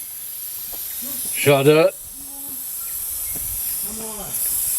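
A paint spray gun hisses steadily while a Frewza B21 boat is being painted, a constant airy hiss running throughout with a short burst of speech over it.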